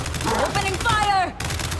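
Gunfire in Gears 5 during a solo Hivebuster match as Alicia in The Mines, a loud, dense barrage under a character's voice that runs across the whole short clip.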